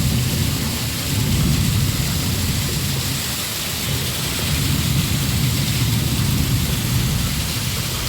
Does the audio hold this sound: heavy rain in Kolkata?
yes